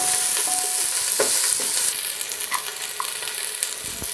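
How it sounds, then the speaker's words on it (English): Onion and red pepper fry in a pan, a loud steady sizzle with occasional stirring scrapes and light knocks, easing slightly partway through. "Then we are going to fry our ingredients."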